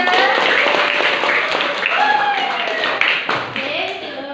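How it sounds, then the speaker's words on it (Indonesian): An audience at an Indonesian stage drama performance clapping continuously, mixed with loud cheering voices and chatter from the crowd. "tepuk tangan"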